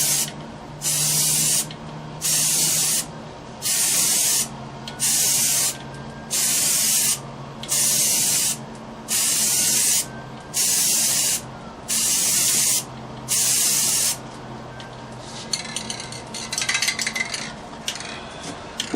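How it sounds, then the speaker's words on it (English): Spray paint hisses onto rusty steel wheel rims in about ten short, even bursts at a steady rhythm, close and loud, followed by quieter clinking and handling noises. "You want to keep it about 1 foot away when you're spraying."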